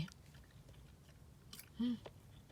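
Someone chewing three-colour dragon fruit close to the mic, with soft wet mastication and a brief louder bite or smack near the end, over faint background noise.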